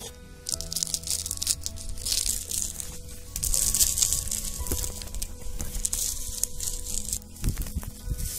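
Roasted ingredients being scraped on a hot tava griddle in a village kitchen, giving dense, steady crunching and crinkling scrapes with a faint sizzle, close and continuous without speech.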